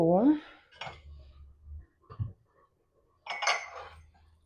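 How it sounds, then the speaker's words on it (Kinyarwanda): New ceramic plates and bowls, some black with gold trim, clink and knock together in a few short, close bursts of handling, with a person talking between them. "n'ubundi aya masahani nayo afite bino bikombe"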